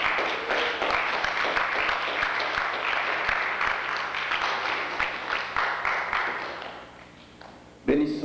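An audience at a missionary service inauguration claps in sustained applause that slowly thins out and fades, with a few voices murmuring beneath the clapping before a brief louder sound at the end.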